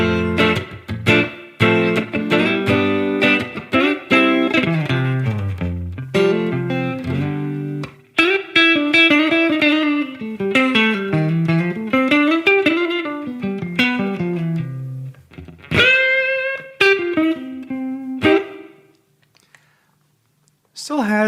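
Electric guitar played through a distortion effect with the tone control set to 7, a continuous run of sustained, gritty notes and bends that drops out near the end, with no talking.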